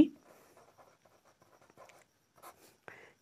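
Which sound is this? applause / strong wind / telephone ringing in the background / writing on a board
writing on a board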